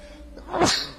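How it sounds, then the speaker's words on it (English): A single close, sharp human sneeze, a quick breathy burst that peaks and fades within a second, heard during a Total War: Rome 2 gaming session. "but I have to sneeze."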